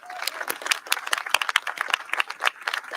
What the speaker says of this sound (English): Let's give a big round of applause to LOUMED for making this space happen.